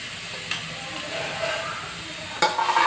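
Grated bottle gourd fries in ghee for halwa, giving a close, steady sizzle with a couple of scraping stirs, the frying swelling louder near the end.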